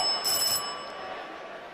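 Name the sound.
bell ringing to end the answer time at a quiz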